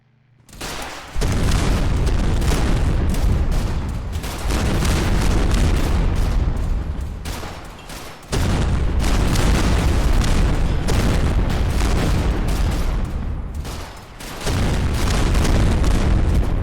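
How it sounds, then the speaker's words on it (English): Massive explosions from a Fallout 4 explosion overhaul mod boom in repeated, loud, sustained blasts, each rumbling for several seconds before briefly dipping and erupting again. "that's the explosion overhaul that's in this mod list"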